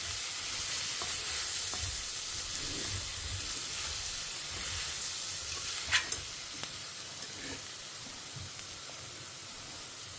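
Sambar powder, turmeric, asafoetida and salt fry and get stirred in a pan for sundakkai kuzhambu, making a steady close sizzle with scraping stir strokes and a few sharper clinks near the middle.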